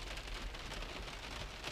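Steady rain pours outdoors on a morning, a dense, even hiss of drops close by with no voices.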